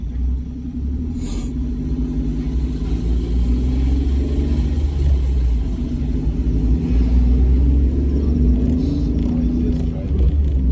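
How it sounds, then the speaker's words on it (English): A car engine rumbles loudly and steadily from inside the vehicle, swelling as it revs and accelerates, with a low droning tone throughout and voices talking over it at times. "The most noisiest driver I ever seen."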